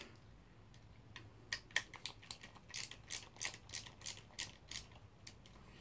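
Long combination screwdriver backing screws out of a robot chassis while mounting motors, giving a quiet run of rapid ratcheting clicks in irregular bursts, close up with no talk.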